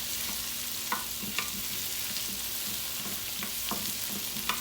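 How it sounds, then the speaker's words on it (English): Tomatoes hit a pot of rice frying in oil for a Caribbean-style one-pot chicken and rice, giving a steady close sizzle with soft periodic scrapes and clinks of stirring, no voices. "Let me go ahead and add my tomatoes in also."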